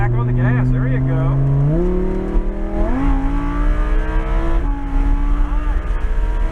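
A Lamborghini accelerates hard on a race track, its loud engine note climbing steadily through upshifts with brief dips between gears, the roar continuous and close throughout.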